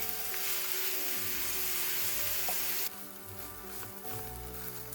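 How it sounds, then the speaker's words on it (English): Onions sautéing in a pan, a dense close-up sizzle that drops noticeably in loudness partway through and continues more softly, without any talk. "I start by sauteing some onions."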